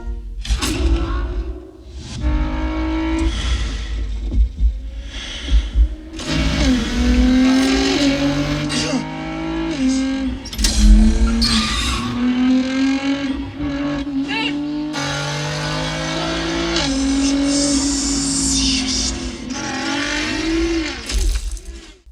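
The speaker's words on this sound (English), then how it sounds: "the cars are depicted as tearing through the tracks at exhilarating speeds, pushing the limits of both the vehicles and the drivers" Race cars in the Gran Turismo film roar and rev at high speed, engines rising and falling through gear changes with tire squeals and thumps, loud and close, layered in a dense, continuous cinematic mix.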